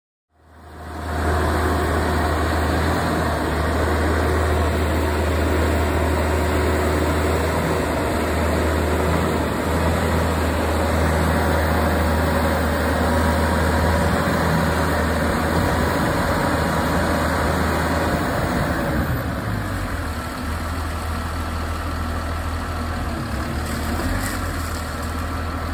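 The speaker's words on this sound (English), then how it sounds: "Once the pit is fully mixed, the wheels on the crawler drop down and it drives itself out of the manure pit." Engine of a remote-controlled manure pit crawler driving itself out of a farm manure lagoon, a steady loud low rumbling drone with constant mechanical hum, running unbroken throughout.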